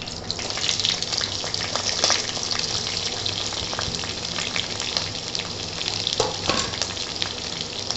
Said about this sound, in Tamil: வதக்கி வச்ச வெங்காயமும் பச்சை மிளகாவும் போட்டு நல்லா வந்து வதக்கிக்கலாம்.